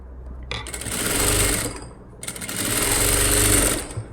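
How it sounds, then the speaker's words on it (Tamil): Two steady bursts of an electric sewing machine stitching over an existing seam on a princess-cut blouse front, each run lasting about one and a half seconds with a short pause between, close and alone. "ஆல்ரெடி தைச்சிருந்த தையல் மேலேயே தைச்சிட்டு வரேன் நான்"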